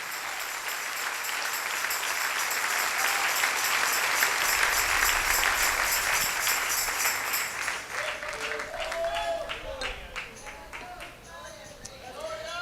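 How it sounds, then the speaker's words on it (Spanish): Church congregation applause, a loud, dense clapping that swells and holds for several seconds, then thins out as voices and a bit of music come up underneath. "Dale un aplauso al Rey."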